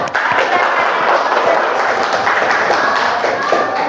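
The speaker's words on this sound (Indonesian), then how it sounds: "tepuk tangan buat kita semua" Classroom students clapping together for everyone after answering a math question, a dense, steady burst of applause filling the room for about four seconds, with some voices mixed in.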